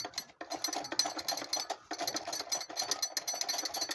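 A sewing machine stitches a tote bag, giving a steady mechanical whir with rapid needle clatter and two brief pauses in the run, close and fairly quiet, with no speech.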